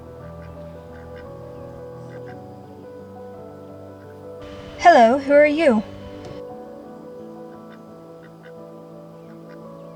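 A duck gives a short run of three or four loud, nasal quacks close by, with a voice speaking around them.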